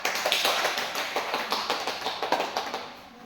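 Classroom applause from students during a mathematics lesson, a brief burst of many quick claps at moderate volume lasting a few seconds before fading.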